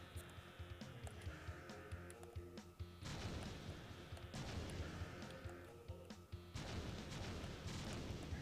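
Missiles exploding in the Atari 50th Collection video game: loud, dense bursts of crashing blasts, with sharp impacts around three seconds and again near six and a half seconds, over a continuous busy electronic game soundtrack.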